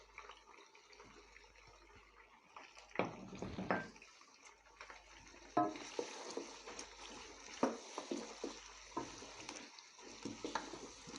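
Chicken frying with garlic ginger paste over a high flame, a soft continuous sizzle broken by louder scraping and stirring bursts in the pan, fairly close and with no talking.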